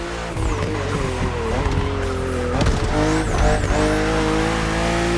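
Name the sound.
BMW race cars on narrow track, video game The Crew Motorfest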